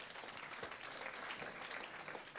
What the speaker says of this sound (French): Sous nos applaudissements bien nourris